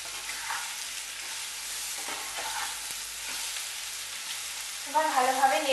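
Pumpkin with salt sizzles steadily in a frying pan while it is stirred, with faint scraping strokes. A short voice comes in at the very end.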